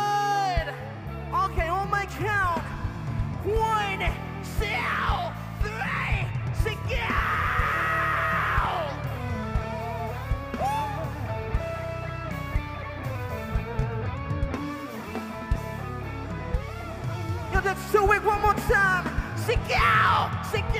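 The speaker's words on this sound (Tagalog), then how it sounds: "pagbilang ko ng 3, sisigaw kayo ng sobrang lakas na aabot sa langit" A large festival crowd at an outdoor concert in Camarines Sur yells and cheers loudly on cue, a sustained roar of many voices filling the whole stretch, with bursts of whoops rising near the end.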